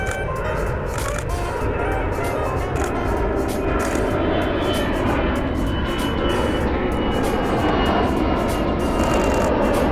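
A FedEx MD-11 flies over a beach with a loud, continuous jet roar that stays close and steady throughout, and people talk beneath it.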